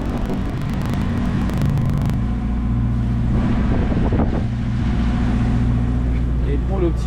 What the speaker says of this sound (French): on est en appui moteur également pour pouvoir ne pas perdre de temps, mais surtout bien passer dans la vague